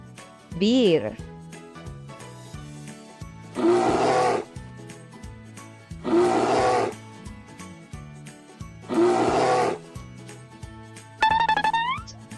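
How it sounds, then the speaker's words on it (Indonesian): A bear gives three loud, rough roars, evenly spaced a few seconds apart. A voice speaks briefly before the first roar and again after the last. "Beruang, bear."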